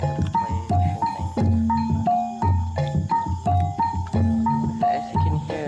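Gamelan music for the kuda kepang trance dance, with repeating metallic gong and bell-like tones over a low pulsing beat in a hypnotic, cyclic pattern, heard alone at moderate loudness.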